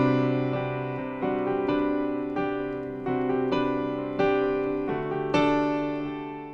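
A piano plays a section of a song as a gentle pattern of repeated chords, each struck and left to ring, moving forward at an unhurried pace with a warm, close sound.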